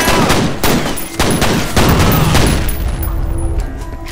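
Boxes explode amid gunfire in the shooter game F.E.A.R., a loud rapid series of sharp bursts and booms at close range, with no talking.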